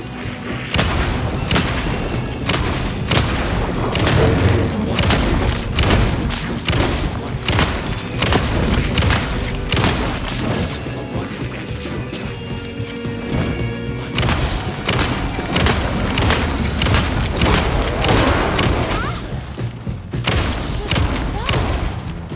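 Alan Wake 2 gunshots: loud, repeated booming shots and heavy thuds come in rapid, uneven bursts throughout, with a short lull in the middle and dense crashing layered between.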